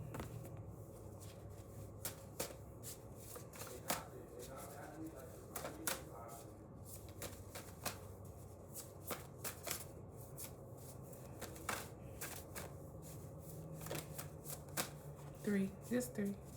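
Oracle cards are shuffled close up in rapid riffling bursts and crisp slaps, repeating steadily throughout, with soft talk in the background.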